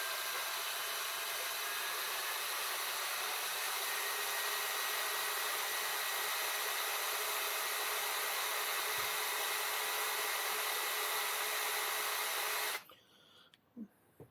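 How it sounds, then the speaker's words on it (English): Cordless power drill on slow speed boring through the boot catch of a Toyota Aygo, a continuous whirring drone held steady for about twelve seconds before cutting off, followed by faint handling noises. "put it on slow power and on drill, and then we'll just carefully drill through and see"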